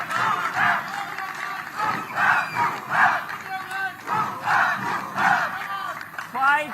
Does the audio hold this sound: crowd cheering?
yes